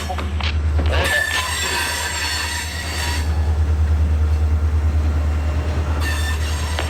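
HO scale model freight train switching and coupling cars at an industry siding, a continuous rolling rumble with wheel squeal and clicks, close and loud, with no speech.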